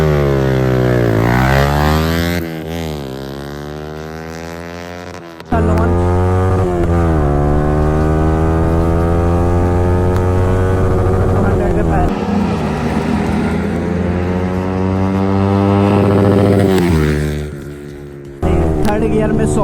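A Yamaha R15 V4 motorcycle accelerates hard through the gears, its engine note climbing loudly in repeated rising sweeps, with brief drops at each gear change. The sound is close and continuous.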